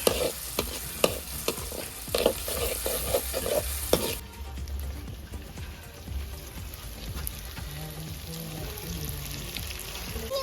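Curry leaves dropped into a hot frying pan with onions while cooking Maggi noodles, a few sharp clatters and stirring scrapes followed by a steady, soft sizzle of frying oil.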